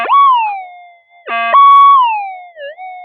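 Minelab metal detector giving off a loud electronic tone, a sustained whooping pitch that glides down, briefly stops, then returns with a buzzy burst and a wavering wobble, close and alone.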